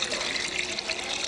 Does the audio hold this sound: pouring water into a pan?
yes